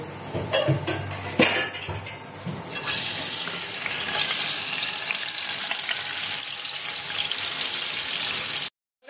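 Fish fry in hot white oil in a wok, a loud, continuous sizzle and crackle close by with a few clinks of utensils, ending in a sudden cutoff.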